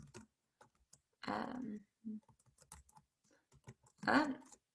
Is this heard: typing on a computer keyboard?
yes